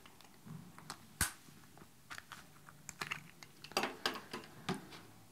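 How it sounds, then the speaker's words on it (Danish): Small screws are loosened to take off an iPhone screen, a faint series of irregular tiny clicks and ticks from a screwdriver and handling, close by and quiet. "jeg starter med lige at løsne skruerne her. Og så tager vi lige skærmen af"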